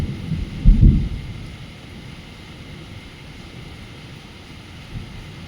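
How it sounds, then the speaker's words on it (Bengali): Heavy rain falls with thunder, heard from indoors beside a window: a deep rumble rolls in during the first second, then a steady, even wash of rain continues with no voices. "বেশ জোর বৃষ্টি পড়ছে, আর মেঘ ডাকছে, দেখছো তো?"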